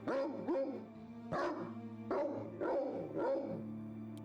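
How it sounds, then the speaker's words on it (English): Dog in the video game Black Legend barking, a series of close, clear barks and yips in uneven bursts. "You cannot pat the dog, but you can interact with the dog."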